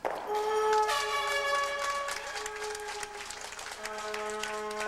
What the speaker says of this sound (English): To the applause of many people who have joined us from the Ottawa Curling Club, Jen Hanna picks up 2 in the 5th.